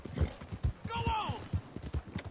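Horse hooves clip-clop rhythmically in Red Dead Redemption 2 on PS5, faint and steady, with a short whinny in the middle. Someone talks over the sound.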